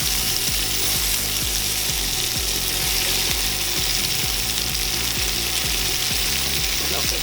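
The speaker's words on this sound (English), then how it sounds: "we're gonna drop in our cabbage because we don't want our garlic to burn" Cabbage sautés in a hot pan with garlic and bacon fat, giving a loud, continuous sizzle and crackle broken by repeated clinks as it is stirred, with no talking.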